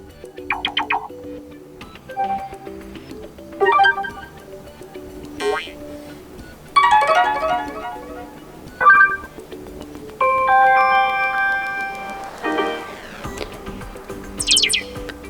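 Voicemail notification tones previewed one after another on a Sony Xperia 5 II phone, a series of short chirping, ringing and melodic electronic beeps separated by brief pauses, with some faint speech in the background.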